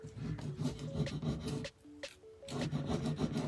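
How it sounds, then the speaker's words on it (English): Craft transfer being rubbed down onto a painted surface with a tool, giving close, dry, raspy scrubbing strokes in a steady back-and-forth rhythm, with one brief pause midway. "I just push it back down and rub, and then lift, down and rub."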